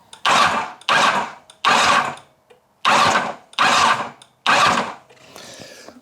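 A 1990 Kawasaki ZZR1100 motorcycle engine cranks over in six rhythmic bursts separated by short pauses, loud and close, without catching, during a spark check.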